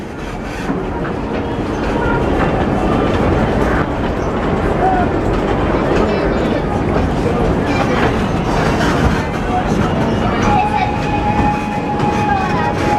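A scenic railway train at Great America rolls steadily along the tracks with a constant rumble and clatter, occasional faint squeals, and people talking under the noise.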